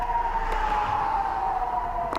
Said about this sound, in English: Another one of these sirens is just going off.